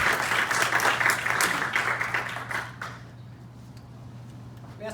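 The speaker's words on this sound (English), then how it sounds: "another round of applause for Michael Arman" Applause from an audience at a Toastmasters meeting, steady clapping from a room full of people under a low constant hum. It fades out after about three seconds, and quiet room noise follows.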